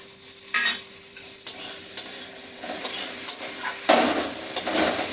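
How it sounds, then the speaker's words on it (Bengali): Chopped tomato pieces hitting a hot pan for a Bengali potol dish, with a steady sizzle of frying and several scraping stirs of a spatula, close up with no talk. "এখন দিয়ে দিচ্ছি টমেটো টুকরো করে রাখা টমেটো"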